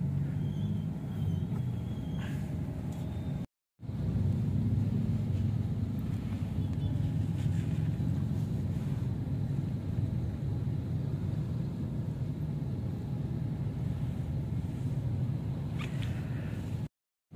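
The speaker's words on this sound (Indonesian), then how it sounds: "Kita lihat perekamannya saat mobil sedang diam." Steady low rumble of a car cabin idling at a red light, with sound-deadening insulation fitted; continuous and even throughout, with a brief dropout near the start and no talking.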